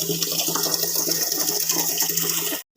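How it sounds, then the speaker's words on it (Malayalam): Tap water runs steadily into a pot for cooking rice gruel, a continuous close gushing stream that stops abruptly just before the end. "ഇനി ഞാൻ കഞ്ഞി വയ്ക്കാൻ വെള്ളം പിടിക്കുകയാണ്"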